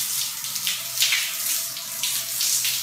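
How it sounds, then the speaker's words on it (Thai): Steady running tap water rinses coffee and camel milk soap off skin, a continuous close splashing hiss with slight surges, heard alone. "ฟอกแล้วเดี๋ยวจะล้างออก"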